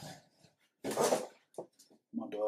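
Dog whimpering indoors, a few short breathy whines and snuffles in separate bursts with quiet gaps between them, fairly close.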